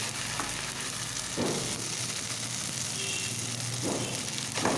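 Chili paste and ginger-garlic paste frying on a low flame in a pan for a soybean and potato curry, a soft continuous sizzle with a few scraping stirs, close and unaccompanied by talk.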